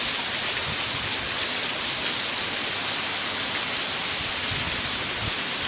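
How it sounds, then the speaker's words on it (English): Heavy rain from a thunderstorm pours down steadily in Canton, Ohio, a dense, even hiss with no breaks, close and fairly loud, and no voices. "I mean, it is pouring down rain."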